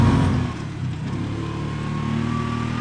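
Vehicle engine bogging down as it runs out of gas, a close, steady mid-pitched drone that wavers in pitch and loses strength, with no talking.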